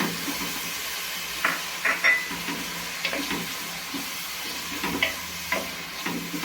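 Crushed garlic, onion and carrot fry in a pan with a continuous soft sizzle and hiss, broken by scraping stirring strokes and small clacks of a utensil, close up and without voices.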